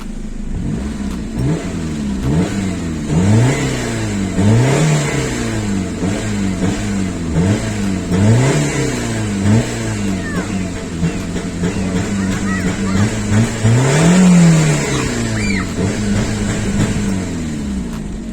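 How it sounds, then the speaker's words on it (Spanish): A 2008 Chevrolet Spark Life 1.0 L engine revs repeatedly, rising and falling in pitch in steady bursts, loud and close, with a brief stronger rev near the end. "es escuchar rugir esos motores"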